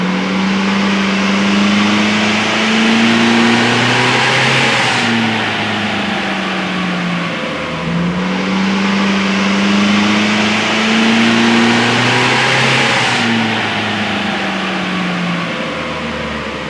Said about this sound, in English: The only thing left to do is to now do some power runs.